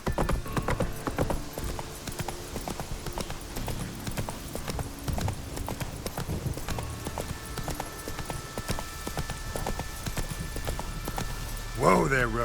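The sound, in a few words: horse Roach galloping, hooves clip-clopping, in The Witcher 3 video game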